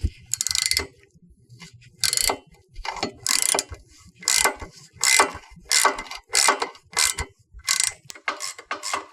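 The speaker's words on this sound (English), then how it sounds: "So get your wrench in there and just start loosening it." Allen wrench loosening a bolt on Yarbo Y tracks: a series of about ten close, sharp ratcheting clicks in short bursts with brief pauses, each burst a crisp mechanical rasp, with no talk.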